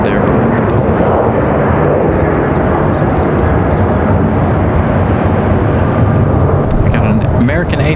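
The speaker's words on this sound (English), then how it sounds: "We got a 737 on the move. From Delta." A Delta Boeing 737 taxies at Raleigh-Durham International Airport, its steady broadband engine roar holding at a constant level from start to finish with no clear rise or fall.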